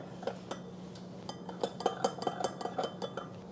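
A utensil stirs sauce in a pan for chow mein, producing light clinks and scrapes against the pan that grow busier partway through, close and fairly quiet.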